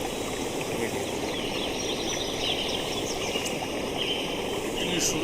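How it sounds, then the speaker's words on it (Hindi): Water from a forest waterfall pours in a dense, continuous rush that stays steady and fairly close, with birds chirping faintly above it. "कितनी सुंदर झरने से पानी गिर रहा है"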